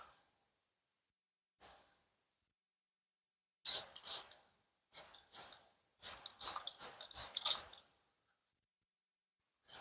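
Short hissing sprays from a spray bottle onto garden plants, several quick bursts in an irregular cluster, close by, separated by near silence.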